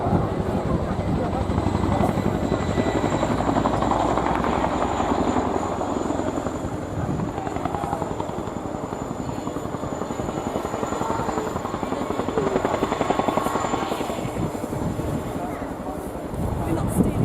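Helicopter flying a display at the RIAT 2016 air show, a loud continuous rotor and turbine roar heard outdoors with a public-address announcer talking over it.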